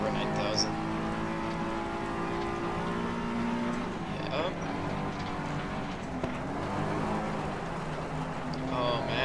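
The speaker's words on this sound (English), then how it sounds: "Oh, look at that perfect drift." Race car engine in FlatOut Ultimate Carnage, a loud sustained roar with shifting pitch as the car slides through a drift, continuous under talking.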